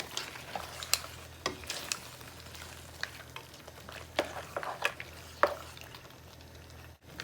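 Mussels and oyster juice heat together in a pan for a spicy jerk creamy pasta, giving a quiet, steady sizzle with scattered soft clinks and scrapes of stirring and no talking.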